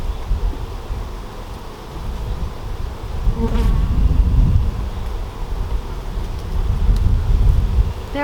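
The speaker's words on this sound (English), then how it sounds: "There are so many bees in here." Honey bees swarm and hum inside a very full hive packed with nectar and capped brood, a dense, steady close-up drone that swells midway and continues without pause, with no voices.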